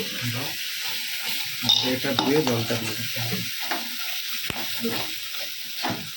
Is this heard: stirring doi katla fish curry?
yes